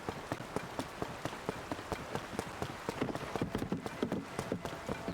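Horse hooves clip-clop steadily in a video game, a quick, even rhythm of sharp strikes close by over a soft rain-like background hiss.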